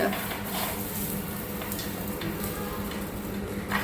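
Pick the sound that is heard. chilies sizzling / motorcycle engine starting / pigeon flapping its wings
chilies sizzling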